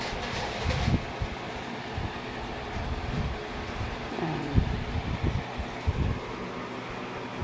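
A steady whooshing fan drone runs throughout, with occasional dull thumps and knocks.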